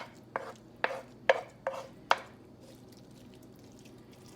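A utensil stirs an egg mixture for a crustless spinach cheddar quiche, giving five sharp, separate clinks against the bowl over a quiet background, with no talking.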